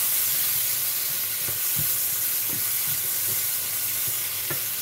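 Tomato being stirred into broccoli in a hot pan, with a steady sizzling hiss underneath and a few soft, spaced scrapes and knocks of the spoon against the pan.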